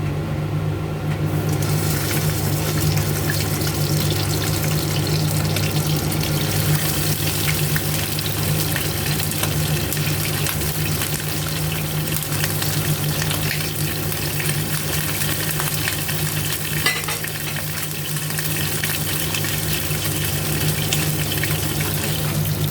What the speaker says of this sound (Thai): ปลาลงไปทอด